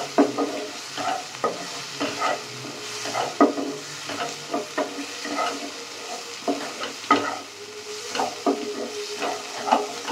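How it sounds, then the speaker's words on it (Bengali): A spice paste being stir-fried in a pan, with repeated scraping strokes of a spatula over a steady sizzle, near and fairly loud, with no voices. "মশলাটা ভালোভাবে কষিয়ে নেব।"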